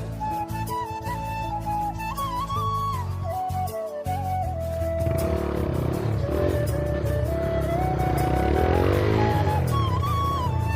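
A TVS Raider motorcycle engine runs steadily close by, its drone continuing throughout with a steady tone and a gradual rise in loudness toward the end.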